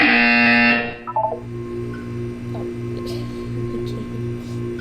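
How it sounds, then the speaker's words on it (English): A loud buzzer blares for about a second in the video game Portal 2, then cuts off, leaving a steady low electronic hum with faint mechanical clicks. "When you hear the buzzer, look up at the ceiling."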